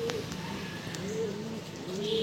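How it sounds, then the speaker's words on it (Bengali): A female pigeon coos softly in short rising and falling phrases over a steady low background hum, close by. "এটা মাদি পায়রা"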